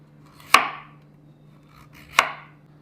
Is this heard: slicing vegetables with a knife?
yes